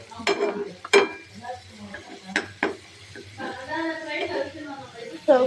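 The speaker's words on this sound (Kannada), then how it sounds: "ನೋಡಿ ಈ ಥರ ಚೆನ್ನಾಗಿ ಮಿಕ್ಸ್ ಮಾಡ್ಕೊಳ್ಳೋಣ" A spoon stirs thick egg masala in a pan, with a few sharp taps and scrapes over a soft sizzle while someone talks throughout.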